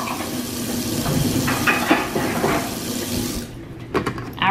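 Coffee scoops rinsed under a running kitchen tap, a steady close rush of water splashing into a sink, ending with a few clinks as the flow stops.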